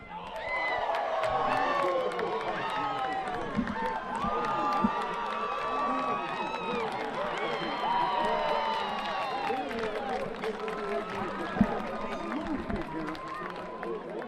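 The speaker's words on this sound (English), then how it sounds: "And you might hear a very excited crowd" Excited crowd in the stands at a 2024 NCAA Division II outdoor track and field championship, a continuous roar of cheering and shouting with scattered claps and whistles, with a commentator's voice running over it.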